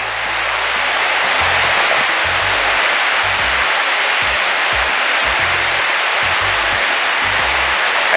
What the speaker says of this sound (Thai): เราได้ยินเสียงน้ำตกอ่ะ